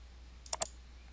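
Two quick, faint mouse clicks in close succession while working in trading chart software, crisp and isolated over a quiet low hum.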